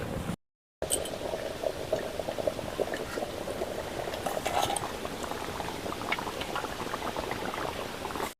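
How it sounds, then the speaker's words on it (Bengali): Handi chicken gently simmering in a sealed pot, a soft steady bubbling and faint liquid burbles, close and quiet, after a brief moment of silence at the start. "আর হালকাভাবে ফুটছে।"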